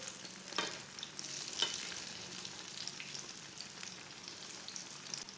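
Egg tikki frying in oil in a pan, a steady soft sizzle with a few louder crackling pops, close and continuous, with no one talking.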